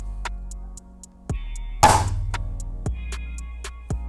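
A Gamo Black Maxxim IGT Mach1 4.5 mm air rifle fires a single loud, sharp shot near the middle, a broadband crack with a short tail, between faint ticking and a quiet background hum.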